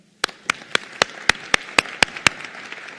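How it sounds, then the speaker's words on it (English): Clapping from a graduation ceremony audience for colleagues on the nursing graduation platform, heard as about ten sharp, evenly spaced claps in a brisk regular rhythm over a quiet room. "Please share your applaud with them as well"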